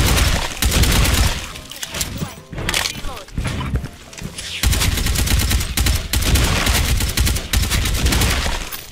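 Galil White rifle fire in Special Force 2, loud sustained automatic bursts with short pauses between volleys and crashing impacts mixed in.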